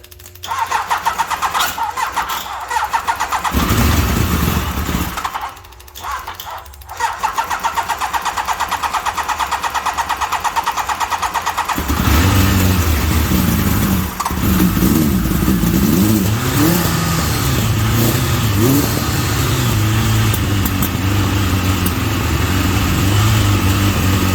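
A 1992 Kawasaki Voyager motorcycle engine cranks and catches on its first start, sputters briefly, then roars into steady loud revving and running close by.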